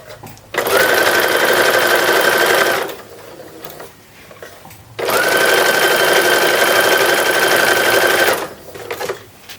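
A sewing machine stitches sleeve edging onto a 1910s-style infant wrapper in two long, loud, steady runs separated by a pause, close and with no voices.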